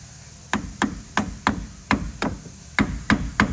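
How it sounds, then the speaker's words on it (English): Metal tools hammer at the pinion seal of a 1999–2006 GM truck, giving about nine sharp, ringing strikes at a steady, close pace with no talk. "Want a good amount of space to try and get a pry bar or a screwdriver in there."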